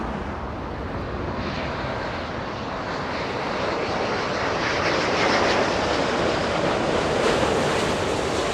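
Speedbird 283, an airliner landing north at Los Angeles International Airport, makes a broad, loud engine roar that swells steadily as it passes close, mixed with a windy rush.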